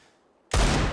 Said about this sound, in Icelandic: diglu skot þarna hjá Volkov